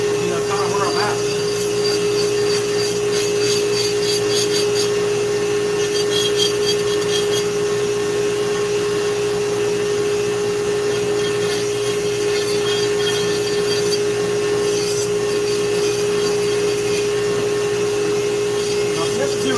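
A Dremel rotary tool carves a cat head, a steady high whine running continuously throughout with faint scraping and grinding textures layered over it.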